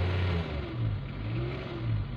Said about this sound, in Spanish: ¿Otra vez dale otro acelerón?